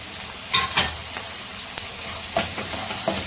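Onions sizzle and fry in a pan with salt and green chili for chicken gravy, a steady hiss broken by several sharp stirring scrapes and clinks close by.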